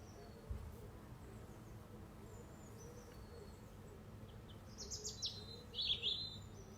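Birdsong in a garden setting: faint chirps and whistled phrases early on, then brighter, louder bird calls near the end over a quiet outdoor background.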